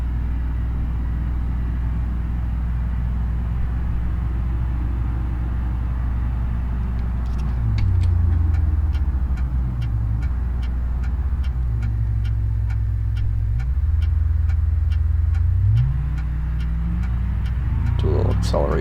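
A Ford Crown Victoria drives in BeamNG.drive, a steady low engine drone with shifting tones as gears change, plus a run of regular ticking like a turn signal, loud and continuous, with a voice speaking over it.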